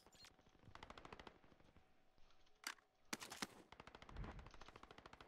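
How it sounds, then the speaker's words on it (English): Rapid automatic gunfire in Call of Duty: Modern Warfare Warzone, a player being shot at: dense machine-gun bursts with sharp louder single cracks, steady and close throughout. "There's a guy shooting at me"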